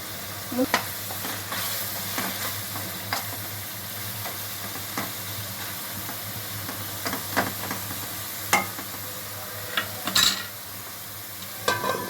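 Masala for a mutton gravy curry frying and being stirred in a pot, a steady close sizzle broken by repeated scraping strokes of the spoon and a few sharper clinks, with no talking.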